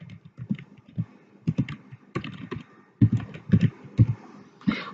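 Someone types a category name on a computer keyboard: soft, irregular clusters of key clicks with short pauses between them, close and quiet, with no talking.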